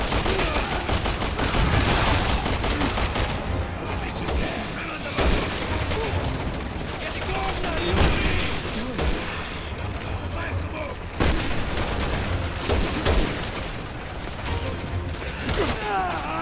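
Heavy sustained gunfire in the video game Resident Evil 6, dense rapid bursts with booming impacts layered loud and close, with voices faintly underneath.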